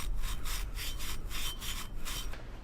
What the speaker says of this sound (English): Clean that up a little more, I suppose, with a little Scotch-Brite action there.